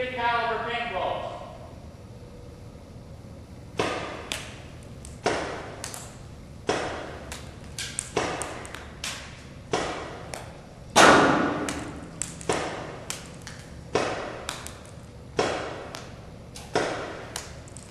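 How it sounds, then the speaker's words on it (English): Ten 50-caliber paintballs fired one after another from 150 feet, each landing as a sharp thump at a steady, slightly uneven pace, with a brief rustle before the first shot. "This is 10 shots from 150 feet with 50 caliber paintballs."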